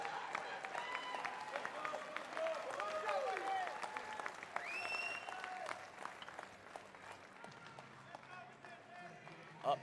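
Audience applause at a military powerlifting competition in an arena, steady clapping through most of the stretch while a voice talks over it, thinning toward the end.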